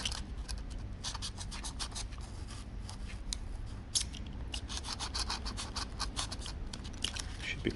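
Scissors or a blade work through foam airframe build material for an ADR Eaglet FPV fixed-wing model, a quiet, close run of rapid scratchy snips and rasping cuts, steady for several seconds with no talk.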